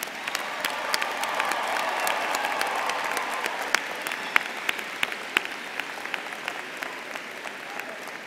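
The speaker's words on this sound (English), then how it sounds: "please give a round of applause for your family and those who have supported you" A large commencement audience applauds families and supporters, a broad steady wash of clapping with crisp nearby claps popping out, gradually thinning toward the end.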